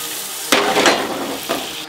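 Garlic sizzles in plenty of butter in a frying pan alongside a steak sauce, with a couple of sharp scraping bursts as it is turned over and over, close and fairly loud.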